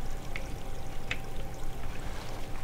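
Steady flowing water from the video game Minetest, a faint continuous trickling stream with a couple of brief brighter splashes, heard alone at low level.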